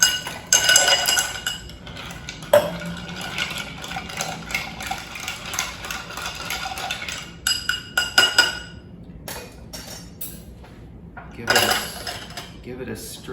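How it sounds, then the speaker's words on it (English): Ice clinks and rattles against glass as a zero-proof Manhattan is stirred with a bar spoon, a busy, close run of bright chinks that fades into sparser taps. "So we'll give this a stir with some ice."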